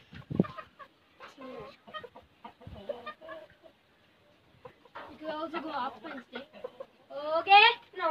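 Hens and bantam chickens, including white leghorns, cluck and call in a backyard flock, intermittent close squawks and clucks rising louder toward the end, mixed with people talking.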